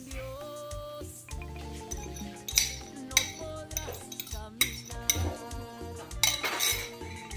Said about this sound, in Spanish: Echamos los dos huevos que batimos anteriormente.